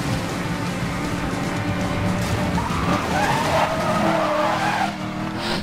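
Tires squeal and skid steadily over a roaring engine as a heavy car slides around corners in the racing video game Need for Speed Most Wanted (2012), loud and continuous.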